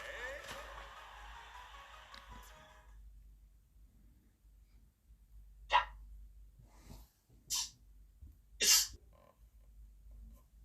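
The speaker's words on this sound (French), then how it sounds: "C'est mon chien." A border collie gives three or four sharp barks and yelps in close succession, loud against a quiet room with low background hum and a few faint earlier noises.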